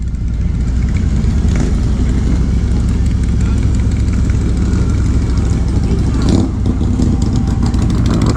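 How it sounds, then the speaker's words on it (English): Many motorcycles idle and rumble in a dense low drone near the First Turn restaurant on Commonwealth Boulevard during Daytona Bike Week, with a passing engine swell near the end. Background chatter runs beneath the engines. "Tons of bikes here today."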